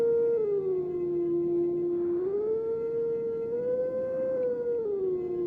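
A long, steady wolf howl from the video game Zelda: Twilight Princess, loud and close, sliding slowly down and back up in pitch over several seconds, with no talking.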